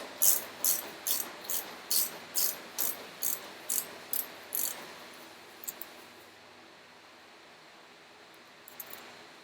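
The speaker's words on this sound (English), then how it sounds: "Those are probably 13mm heads, which I've already got rigged up. Let's loosen them." A hand ratchet loosening 13mm bolt heads while working on a blown head gasket, about ten evenly spaced clicking strokes in a quick steady rhythm, close and fairly quiet, then near silence with a couple of faint clicks.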